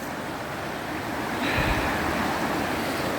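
Winter creek water rushes steadily at close range, a broad wash that swells louder halfway through with wind-like hiss mixed in, and no voices are heard.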